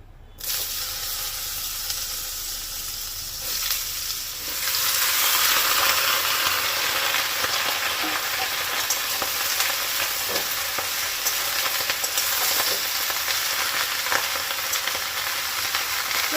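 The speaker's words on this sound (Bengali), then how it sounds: "চলো আগে চিচিঙ্গেটা খুব ভালো করে লাল করে ভাজা করে নিই" Ridge gourd pieces frying in a wok of hot oil, a steady loud sizzle that swells after a few seconds and holds, with occasional stirring scrapes and no voices.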